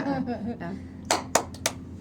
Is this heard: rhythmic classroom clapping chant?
yes